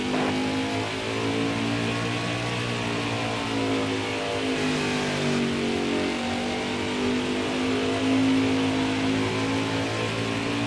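Racing pickup trucks in a Craftsman Truck Series race at Watkins Glen roar steadily at close range, engines holding a loud, continuous drone with slight shifts in pitch as they rev through the run.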